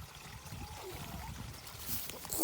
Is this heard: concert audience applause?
no